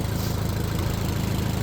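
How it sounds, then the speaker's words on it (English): 1965 Lincoln engine idling in 15-degree icy weather, a steady close rumbling idle with even low pulsing and no talk. "she's idling good, actually"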